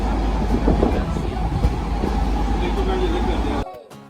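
A passenger train running on a Barishal to Cox's Bazar trip, heard from inside its canteen car as a loud, rumbling roll with rhythmic rattles, a voice talking over it, before it cuts off.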